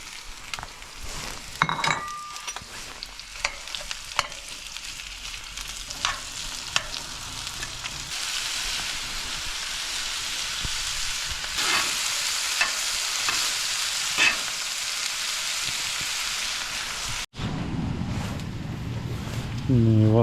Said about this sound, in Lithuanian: Aliejus užkaito, galiu svogūnus supilti.